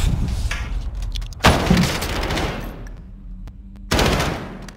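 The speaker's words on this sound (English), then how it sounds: "They're shooting at me, man." Gunfire in a video game shooting at the player: sharp bursts of automatic shots in quick clusters, with loud strikes near the middle and end and quieter gaps between them.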